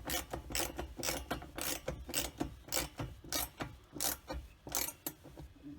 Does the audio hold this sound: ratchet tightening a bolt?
yes